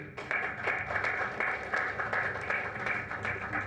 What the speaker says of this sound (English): So a much louder applause would be helpful.